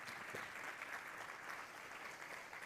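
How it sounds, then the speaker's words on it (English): Applause from a conference audience for a panel of speakers at a small-business summit, a steady, faint wash of clapping with no gaps across the whole stretch. "Let's give them a round of applause, all our panelists."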